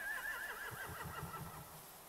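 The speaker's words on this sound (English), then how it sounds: "They have horses." A horse whinnies shrilly in The Walking Dead: The Final Season video game, its high neigh trailing off into lower snorting calls, close and fairly loud against a steady background.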